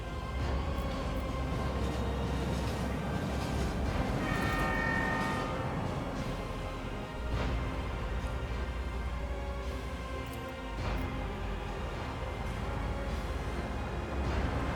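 A train rumbles past steadily in a Warhammer 40,000 Rogue Trader video game scene, a continuous loud mechanical roar with a horn-like tone sounding throughout.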